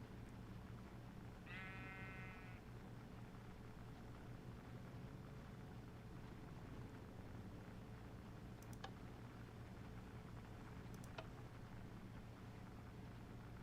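A single Minecraft sheep gives one short, wavering bleat, faint against a low steady game hum, followed later by a couple of sharp clicks.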